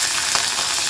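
Crushed ginger and garlic fry in hot oil in a pan, making a dense, close, steady sizzle for a brief moment.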